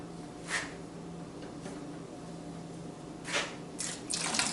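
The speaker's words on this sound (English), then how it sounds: "So we're going to flush this out real quick." Water flushes out of a line into a bucket in a steady rushing flow, with a few louder splashing surges near the end.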